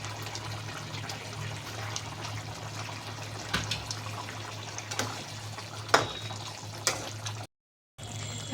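Egg malai curry simmers gently with eggs added, a soft bubbling and liquid burble under a low steady hum, punctuated by a few small clinks and taps, close, with a brief dropout near the end.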